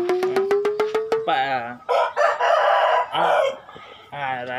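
Chickens cluck and cackle close by in a rapid rhythmic series, followed by several squawking, crow-like calls from a rooster and hens, loud and near, with no talk.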